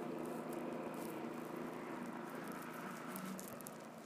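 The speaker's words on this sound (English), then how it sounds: "Look at this guy with the snowblower." Snowblower running outdoors in a blizzard, a continuous broad engine roar with windy noise, fairly distant and steady, slowly fading toward the end, no speech.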